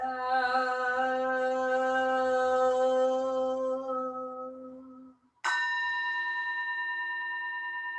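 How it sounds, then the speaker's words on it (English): A single meditation bell at a Sunday service rings out and hums as it slowly fades, then a second bright strike follows and rings on, sustained and clear. "bell"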